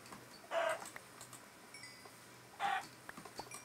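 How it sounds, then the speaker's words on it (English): Chickens in the video game Minecraft cluck faintly in two short bursts, separated by quiet gaps filled with a few soft clicks. "These stupid spy chickens everywhere."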